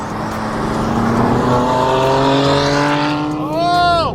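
A powerful stock BMW M3 CS engine revs up and drones loudly, its pitch climbing and then rising sharply again near the end, with a voice over it.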